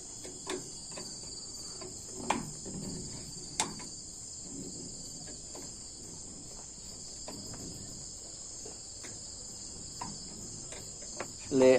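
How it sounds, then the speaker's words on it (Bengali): Crickets chirping at night in a Gazipur village, a loud continuous high trill throughout, with scattered faint clicks and knocks nearby and a short louder bump at the end. "ওটা একটু চুপচুপ থাকলে ঝিঝি পোকার আওয়াজটা দেখেন কতটা হরর মনে হচ্ছে।"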